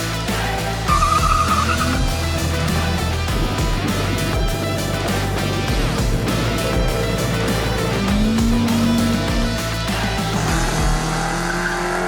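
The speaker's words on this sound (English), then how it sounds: "Hopefully that's a bit of a burnout to get the tires warmed up." A classic car at a hill climb race event performs a tire-warming burnout, its engine revving loudly and steadily with tire squeal and skidding throughout, close and continuous with no talk.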